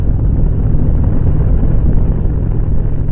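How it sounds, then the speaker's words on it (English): Strong wind roars across the microphone on a motorcycle trip near the Salton Sea, a loud, continuous low buffeting rush with no break. "Wind is picking up big time."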